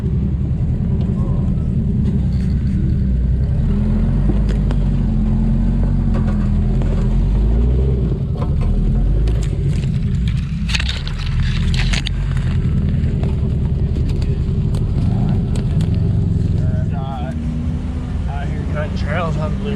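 Modified 1991 Jeep Wrangler YJ grinding along an off-road trail, its engine a loud, steady low rumble throughout with bumps and knocks over the terrain, under occasional voices.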